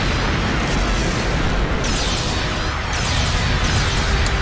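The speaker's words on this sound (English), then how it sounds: "Rather easy when you have a big rail cannon on the front of an airship, eh?" A rail cannon mounted on the front of an airship fires in The Legend of Heroes: Trails into Reverie, a dense, loud, continuous roar of blasts and crackling bursts with no pause.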